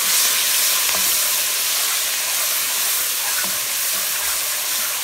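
Garlic, ginger and ground spices stirred together in a hot pan with oil, giving a steady, close sizzle and hiss throughout, with faint scraping of the spoon now and then.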